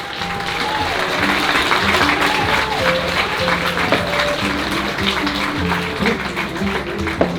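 An audience applauds costume contest entrants at an outdoor cider and dragon festival, sustained clapping over background music, with some voices mixed in throughout.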